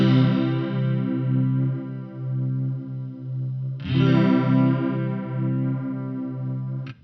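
A guitar runs through a Line 6 Helix with a makeshift chorus effect. Sustained strummed chords shimmer and pulse steadily, with a fresh strum about midway through and the sound ringing on to the end.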